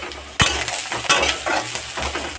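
Potatoes fry in a pan for Bengali aloo bhaja, giving a steady close sizzle broken by a few sharp scraping stirs of a utensil against the pan.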